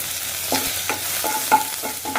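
Hot oil sizzling steadily as cinnamon, cloves, fennel seeds, a bay leaf, curry leaves and onion fry, with a utensil scraping and stirring the pan in a loose rhythm.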